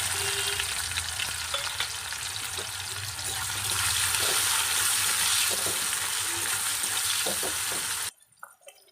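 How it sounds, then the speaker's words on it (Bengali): Tomato and onion frying in oil in a wok, a dense steady sizzle with occasional stirring clinks, close up, cutting off abruptly near the end. "প্রথমে আমি তেলের মধ্যে টমেটো আর পেঁয়াজটা দিয়ে দিচ্ছি"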